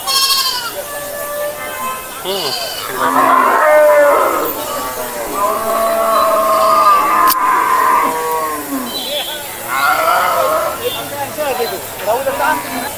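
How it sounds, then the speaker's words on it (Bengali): Cows low and bellow repeatedly at moderate distance at a busy outdoor cattle market, mixed with the murmur of people talking in the crowd. "এই পাশে গাই গরু আর কি।"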